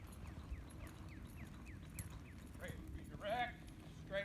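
Horse hooves clip-clopping in a steady loping rhythm during a cloverleaf riding exercise, moderately close, with a voice talking over the footfalls.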